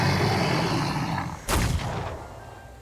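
A single loud gunshot rings out in The Thaumaturge, a demon-summoning RPG, cutting through a dense rumbling background and then decaying into a lingering tail.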